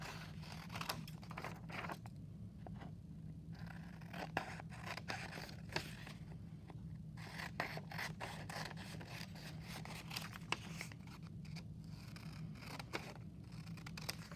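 Scissors cut a box out of a paper notebook page, repeated quiet snipping and scraping strokes in an irregular rhythm, close up with no talking.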